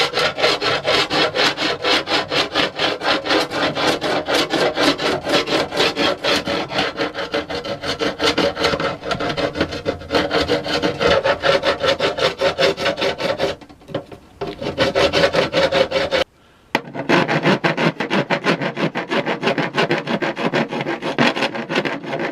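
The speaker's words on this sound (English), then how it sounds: "I'm just going to file it flat as best I can" Old putty on a Victorian display case is filed flat with steady, close rasping strokes in a fast rhythm, continuing almost without pause apart from two brief gaps near the end.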